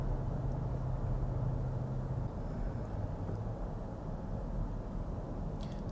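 Lexus RX 450h hybrid SUV on the move, a steady low engine hum blended with road and tire noise, droning evenly from inside the cabin without any talk.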